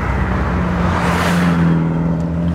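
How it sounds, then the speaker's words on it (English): A car leaving a mountain touge road at Mt Fuji, Japan roars past close by, its engine swelling and fading with a steady whooshing road noise and a low droning hum underneath. "Couple of cars leaving the Touge now"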